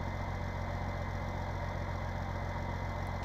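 Tractor engine idling steadily in Farming Simulator 19, a continuous low rumbling drone with a throbbing, slightly knocking texture, close and even throughout with no talk.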